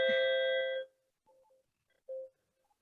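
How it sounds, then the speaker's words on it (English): A school bell rings with a clear, sustained electronic tone that cuts off sharply, followed by faint distant tones in an otherwise quiet room. "Ooh, that's the bell."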